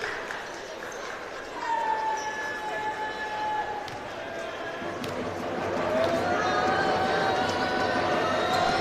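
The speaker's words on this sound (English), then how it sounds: "Great crowd in here tonight, making a lot of noise" A basketball crowd in Worcester keeps up a steady roar of cheering and noise throughout, with squeaking sneakers on the court and a commentator talking over it.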